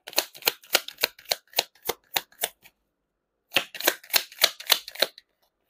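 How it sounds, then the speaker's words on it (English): Tarot cards are shuffled and flicked from a deck in a quick run of crisp, papery snaps, then a pause and a second burst of card snaps, close and clear with no talking. "I feel like pulling up two more cards from this deck."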